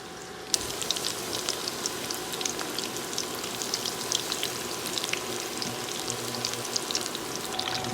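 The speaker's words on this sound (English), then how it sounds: "You're gonna fry the coconut until it's golden brown." Coconut-battered shrimp fry in hot oil, a dense crackling sizzle that starts abruptly and then holds steady, close and fairly loud, with fine popping throughout.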